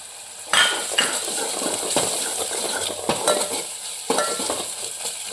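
Tomatoes cooking with ginger-garlic paste in a pan for idli sambar, giving a steady close sizzle with repeated scrapes and clinks of a spoon stirring against the metal, no voices.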